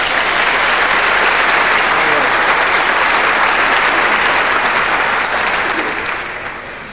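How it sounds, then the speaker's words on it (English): An audience at a snooker comedy show gives a loud, dense round of applause that holds steady and then fades out near the end. "Give him a round of applause there, come on."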